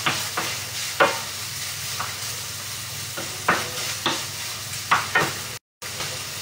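Food, seasoned with pepper for a quiche lorraine, sizzles steadily in a pan while a utensil stirs, giving periodic scraping knocks over the constant frying hiss.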